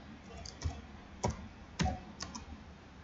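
Several separate keystrokes on a computer keyboard while HTML is typed into Notepad++, crisp close clicks spaced irregularly with short pauses between them, no voices.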